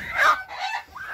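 A rooster gives a few close, loud clucking calls in short bursts, with faint farmyard noise behind and no talking.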